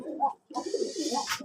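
Pet pigeons coo inside an indoor pigeon room, a few close, low throaty coos in short bursts with a brief pause, no talking.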